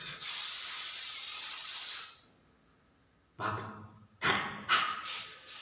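A voice imitates steam hissing out of a pressure cooker whistle: a loud sustained hiss for about two seconds, then silence and several short breathy bursts.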